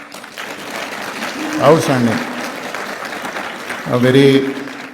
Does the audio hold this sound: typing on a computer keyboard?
no